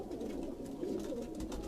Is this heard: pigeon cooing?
yes